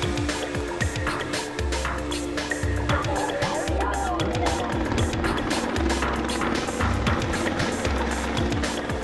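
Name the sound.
helicopter flying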